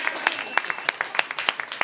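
A small audience at a live music event claps, scattered close sharp claps rather than a dense ovation, brief and moderately loud.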